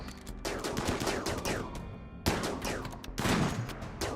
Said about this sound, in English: We're putting some heavy fire on these guys now